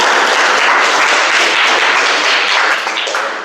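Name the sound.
audience applause for Pooja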